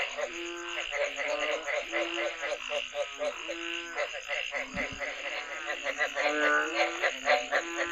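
A dense chorus of frogs croaks continuously on a mountainside after heavy rain, many overlapping calls pulsing loudly and steadily throughout with no pause.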